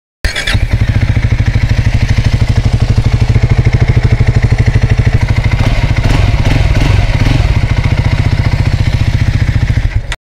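A Triumph Scrambler 400X motorcycle idles close by, its engine firing in a rapid, even thump through the dual exhaust, loud and steady throughout with a slight blip of revs near the middle.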